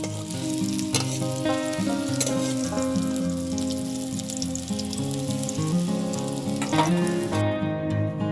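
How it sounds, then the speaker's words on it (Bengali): Taro stolons frying in hot oil in a pan for a Bengali dish, a steady dense sizzle that runs loud and continuous throughout with no talking. "এবার আমি লতিগুলো একটু ভেজে নেব"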